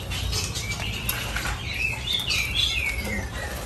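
Many birds in a bird shop flutter and flap their wings with a busy, continuous patter, mixed with scattered chirps and tweets, at moderate loudness with no talking.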